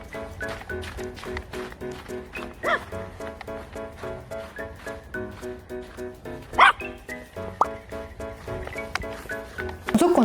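A dog excited on walks barks and yips repeatedly in quick bursts, close and fairly loud, with people talking underneath.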